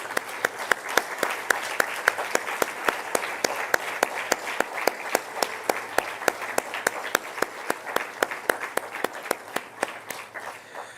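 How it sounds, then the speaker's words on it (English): A convention hall audience at the ACMA 60th Convention gives a standing ovation, steady crowd applause layered with sharp, regular rhythmic claps running throughout about eleven seconds, fading a little at the end. "May I request a standing round of applause to Shraddha ji"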